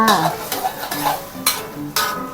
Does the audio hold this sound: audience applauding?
no